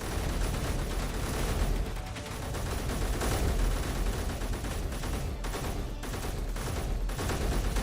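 Sustained gunfire in the space sandbox game Space Engineers, a dense, continuous barrage of rapid shots aimed at the player, loud and steady throughout with no talk over it.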